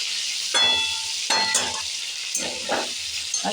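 Potatoes frying in a pan alongside prawns give a steady close sizzle, with several bursts of stirring and scraping clatter that come and go over the hiss.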